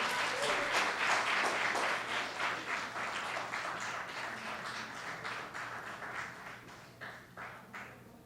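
Audience applause at an awards ceremony as first place is announced, heard as steady, fairly quiet clapping that gradually thins into distinct scattered claps.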